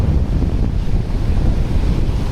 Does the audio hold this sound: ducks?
no